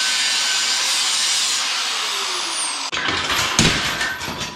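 A power saw screams steadily through the metal of a cherry picker, loud and close, then the tone breaks off and turns into rougher, uneven cutting.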